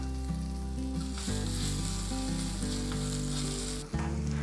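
Dried whole chillies, curry leaves and crushed garlic sizzling in hot oil for tomato chutney, a steady dense close hiss under a repeating tonal hum, with a brief dip near the end.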